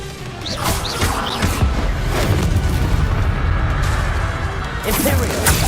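Bombarda blasting spells explode in Hogwarts Legacy, with heavy booms and crashes bursting one after another over a continuous rumbling mix of game effects and a voice calling out spells.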